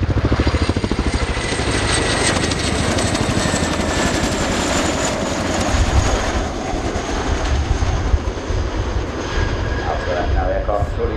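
A Royal Air Force Chinook HC.6A twin-rotor helicopter performs an air show flying display, its loud, continuous rhythmic rotor thud and engine whine filling the air while an announcer talks over it.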